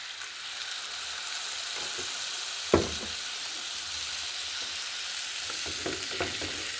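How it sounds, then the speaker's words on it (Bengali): A ginger-cumin spice paste with chili and turmeric powders cooks down in a pan with a splash of water for a Bengali koi fish dish, sizzling steadily and close, with one sharp clank and a few light stirring taps. "এবার একটু জল দিয়ে কষছি।"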